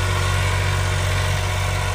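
An old tractor engine runs at a steady idle, a loud, even low rumble with no speech over it.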